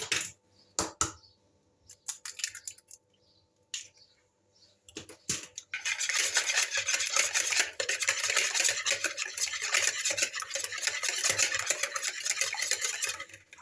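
Eggs whisked in a bowl: a few sparse clicks and taps at first, then a fast, continuous scraping and tapping of the whisk against the bowl that carries on steadily, close and fairly loud, with no talking.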